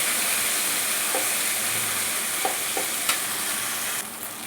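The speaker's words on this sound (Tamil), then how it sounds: "எல்லாத்துக்குமே நல்லா கிண்டி விட்டுக்கணும்." Curry leaves and garlic frying in oil in a pan, a steady hiss of sizzling with a few soft scrapes of stirring, continuous and close, no voices.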